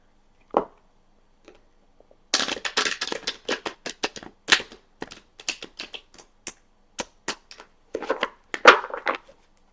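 Tarot cards being shuffled by hand in a quiet room, with an isolated tap, then a burst of rapid riffling clicks and several short flurries of card slaps, close and crisp against near silence.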